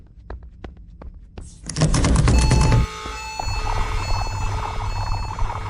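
A few regular soft thumps, then a loud harsh electronic alarm blares, shifting into a steady sustained tone with a low hum.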